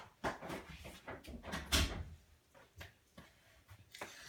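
A bedroom door being closed: a few soft knocks and a louder thud in the middle, with quieter handling clicks around it, faint and indoors.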